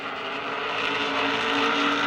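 Modified race cars at Lancaster Speedway roar past at close range, a loud sustained engine drone that rises slightly in pitch and volume, no talk in the moment.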